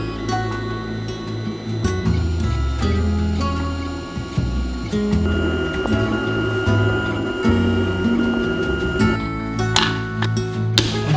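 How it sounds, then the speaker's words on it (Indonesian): A 3D printer at work, its stepper motors whirring and shifting pitch in busy, changing tones, with small ticks and clicks, close and continuous. "standby 3D printer"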